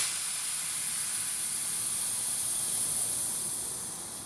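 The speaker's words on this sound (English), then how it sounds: "So we'll start by letting the pressure out" Air pressure escaping through the Schrader valve on a Cessna 177RG Cardinal nose gear strut, a loud, close, steady hiss that holds evenly and then begins tapering off at the end.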